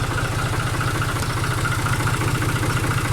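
A tractor engine idles steadily nearby, a low rhythmic chugging that stays constant throughout with no voices; the tractor has a stop solenoid fault and does not shut off.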